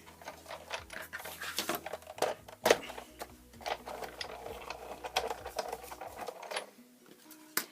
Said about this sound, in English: Now I'm going to bring up the Big Shot and cut out some ovals.